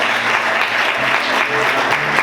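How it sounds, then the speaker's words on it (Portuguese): A church congregation applauds during a sermon, with dense, continuous clapping from many hands filling the room at close range and a loud, even level throughout, with no talk over it. "Quantos podem aplaudir o Senhor?"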